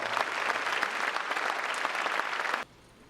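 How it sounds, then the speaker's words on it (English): Applause at a college football awards banquet, a dense sustained clapping from a seated crowd that carries on steadily for over two seconds and then cuts off abruptly, leaving a quiet room. "give them a round of applause"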